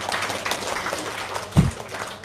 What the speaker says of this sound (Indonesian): Tepuk tangan dulu dong sama Kang Abu.